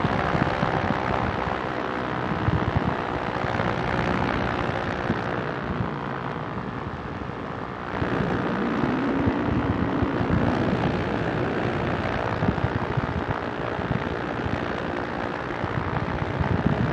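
Ultralight aircraft engine droning steadily in flight, a loud continuous propeller roar close to the mic with no breaks.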